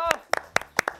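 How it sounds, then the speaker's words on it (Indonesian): Several sharp hand claps in an uneven burst after a Malay joget dance performance, close and clear, with a brief voice at the start. "Bagi tepukan dulu."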